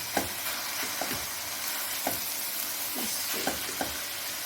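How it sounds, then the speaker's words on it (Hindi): Vegetables for cutlets fry in a pan while being mashed, a continuous moderate sizzle with repeated dull thumps and scrapes of the spatula pressing into the mixture at an uneven rhythm. "मैं इन वेजिटेबल को अच्छे तरह से भूनते हुए साथ साथ मसल भी लूँगी इन्हें।"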